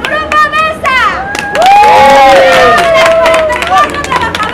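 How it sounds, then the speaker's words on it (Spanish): A crowd at an award ceremony for a union-rights prize cheers, whistles and shouts loudly, with children's voices and clapping mixed into a lively, close roar. "¡Un aplauso!"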